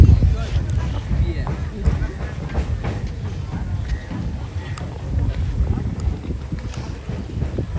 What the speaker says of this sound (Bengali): এই ঘাটেই আসবে ট্রলারটা